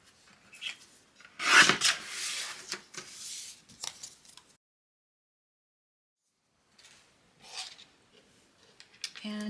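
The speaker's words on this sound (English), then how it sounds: "I'll just trim this down." Rasping, scraping strokes of blade or trimmer cutting foiled black cardstock, a dense burst early then a few more passes, a silent gap, and further cutting at the end.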